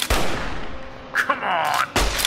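A single gunshot blasts out sharply and loud at the start of a dramatic chase scene, followed by a lingering rumble, scattered rustling and a second heavy burst near the end.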